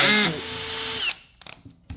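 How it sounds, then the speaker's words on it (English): Cordless power drill backing screws out of an ECM blower motor housing, a loud high whining spin that winds down, then a few light metallic clicks and taps nearby. "just going to use my drill with this nice little bit. Run these out."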